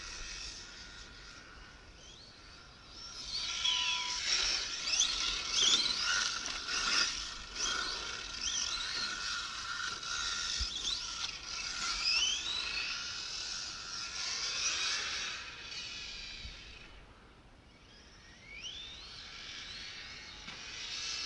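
A Hongnor Ofna Nexx10SC electric RC car with a 3800kv motor on 2S power runs across grass, giving a continuous whining, hissing motor sound with rising and falling pitch as it accelerates and turns, at moderate distance.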